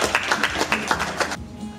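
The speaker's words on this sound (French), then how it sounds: "Alors, je vous prie d'abord de l'applaudir," Brief applause from an audience for an artist at a PANAF village event in Conakry, a short burst of scattered claps that cuts off abruptly, fairly distant and modest in level.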